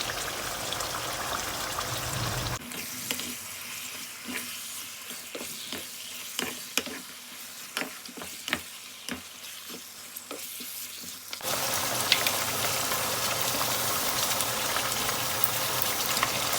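Pork pieces fry in a pan with a steady, hissing sizzle, broken by a run of scraping, clattering stirs in the middle before the loud frying hiss returns alone.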